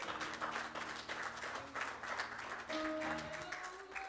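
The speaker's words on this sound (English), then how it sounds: "Give God a hand clap of praise." Church congregation clapping in praise at the close of a sermon, a steady wash of hands over sustained keyboard or organ tones, moderately quiet and continuous.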